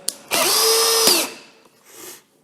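An Einhell TP-CD 18/60 cordless drill in first gear whirs loudly for about a second with a steady high whine, then winds down, followed by a softer brief whir.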